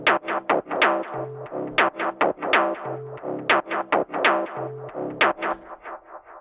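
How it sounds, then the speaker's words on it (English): A looping sequence built from synth samples with added delay: short plucky stabs in a steady, rapid pattern, each note trailed by echoing repeats, with a recurring low tone every second or so, moderately quiet and alone. "we have a sequence I built from synth samples"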